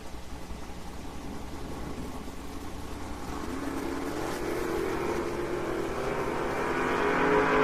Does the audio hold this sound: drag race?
yes